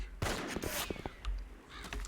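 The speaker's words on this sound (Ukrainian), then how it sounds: "Нас звідусіль стріляють." Gunfire in the World War II shooter video game Enemy Front, several sharp shots cracking amid battle noise, with a voice speaking briefly over them.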